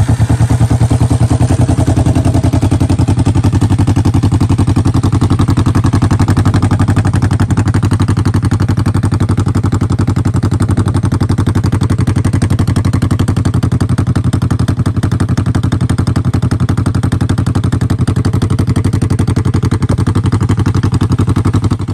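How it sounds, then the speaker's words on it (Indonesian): A 1973 Yamaha TX500 two-cylinder DOHC motorcycle engine runs steadily for the whole stretch, a loud, rapid, even mechanical chatter with a constant low throb and no voices over it. "Yamaha TX500 ini tuh punya mesin 2 silinder yang besar"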